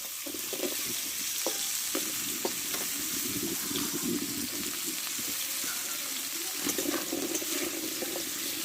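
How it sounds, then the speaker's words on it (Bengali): Chicken fried in hot oil in a pan, a steady hiss and sizzle running throughout with soft occasional stirring scrapes, close and moderately loud. "এবার এই তেলেই আমি চিকেনটাকে কষে নেবো"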